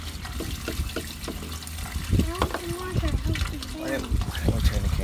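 Water gushes steadily from a hose fed by a newly installed submersible well pump, a continuous splashing rush with voices talking over it.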